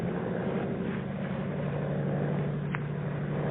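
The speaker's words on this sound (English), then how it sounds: "a monoplane was climbing into the heavens." A monoplane engine from a radio drama sound effect drones as a steady, low, continuous hum, moderately quiet and alone throughout.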